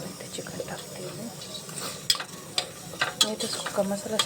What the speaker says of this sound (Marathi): बघा इथे चिकन टाकते मी.